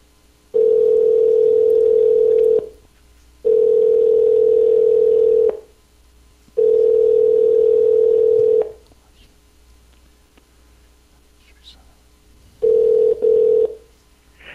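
Steady telephone line tone sounding in four separate bursts, each about two seconds long with short silent gaps between, while a call is transferred to a school district office; loud and clear with no talking.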